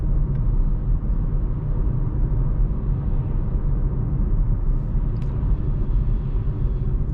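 Steady low road rumble and tire noise inside a 2024 Chevy Trax 1LT at lower speed, continuous and even in level with no talking.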